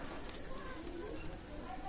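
A pair of Shaki Teddy pigeons in a loft give soft, low cooing, faint and somewhat distant, with a few thin chirps over steady background noise.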